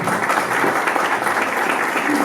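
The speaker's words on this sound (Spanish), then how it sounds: "un aplauso." Audience applause at a Latin American artificial intelligence event, a dense, steady wash of many hands clapping together for a couple of seconds with no distinct individual claps standing out.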